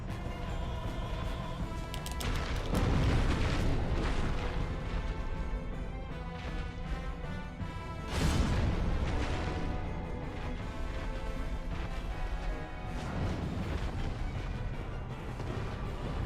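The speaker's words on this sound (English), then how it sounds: "You got a lot of explosions, buddy." Rumbling explosions in the video game Dark Souls: heavy booms burst out several times over dense, layered game sound and music.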